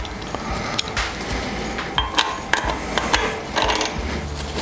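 Ratchet socket wrench tightening the connecting rod cap bolts on a Fordson Super Dexta tractor engine during a piston rebuild, with several short, sharp clicking bursts and metallic taps spaced irregularly in a workshop, no talking.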